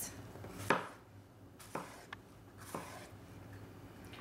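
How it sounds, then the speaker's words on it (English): A knife slices vegetables into thin strips on a cutting board while a Greek salad is prepared, giving three or four separate, crisp chopping knocks spaced about a second apart, close and fairly quiet, with no voices. "And then just slice them into thin strips."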